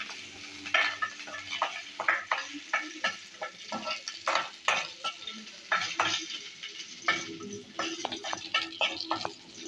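A spoon stirs and scrapes chopped green chilies frying in a pan for dhokla. Rhythmic metallic strokes repeat over a soft, steady sizzle, close and fairly quiet, with no talking.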